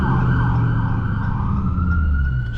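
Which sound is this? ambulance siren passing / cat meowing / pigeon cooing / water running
ambulance siren passing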